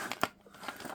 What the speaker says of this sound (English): So we are going to cut these two off.